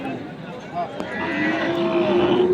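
Cattle low and moo amid a busy crowd, with a long drawn-out bellow rising toward the end over a murmur of people talking.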